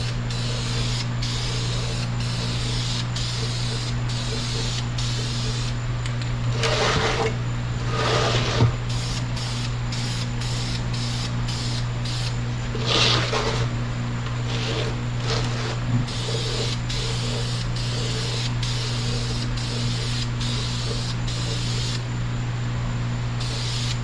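Spray paint applied as a final coat to a Small Block Chevy valve cover, repeated short hissing bursts from the can, some longer sprays in the middle, over a constant low mechanical hum.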